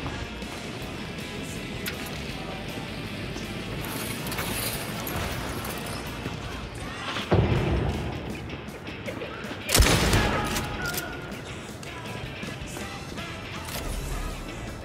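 Gunfire in the Hunt: Showdown video game crackles through a dense, noisy battle mix, with two sharp, louder shotgun blasts standing out about two seconds apart.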